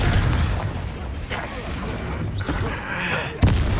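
A Confringo fire spell explodes in the Hogwarts Legacy video game, with a sharp close blast near the end over a dense, busy background of combat sounds and voices.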